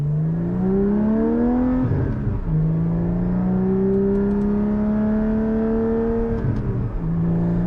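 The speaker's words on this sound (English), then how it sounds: "It's truly, I think, is a race exhaust." A Porsche 718 GT4 with a straight-through race exhaust revs up and down in long rising sweeps, its sharp, raspy exhaust roaring close by with brief crackles between pulls.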